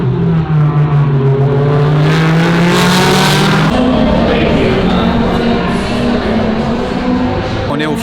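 Supercars and race cars driving at turn 11 of the Sonoma track, loud engines droning and shifting pitch as they pass, continuous and fairly close, with a voice speaking over the noise.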